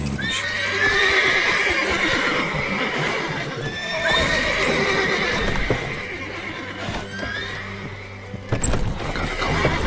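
Horses in Witcher 3 whinny repeatedly over the thud and clatter of galloping hooves, loud and close, with overlapping neighs and a brief drop before the hoofbeats resume.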